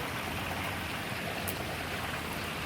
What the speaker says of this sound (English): Oh, wow. It's raining.